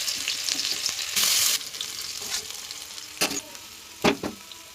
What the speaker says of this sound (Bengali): প্রথমে দিয়ে দেবো কুচনো পেঁয়াজ